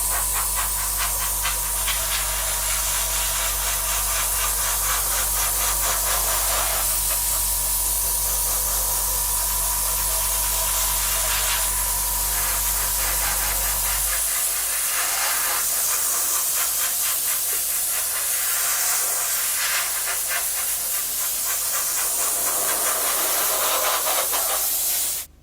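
Airbrush hissing steadily as a flat clear coat is sprayed over a 1/32 Trumpeter F-14D Tomcat model kit, a continuous close-up airy spray with brief pauses, a low compressor hum underneath during the first half.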